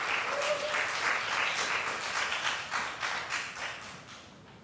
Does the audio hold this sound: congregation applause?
yes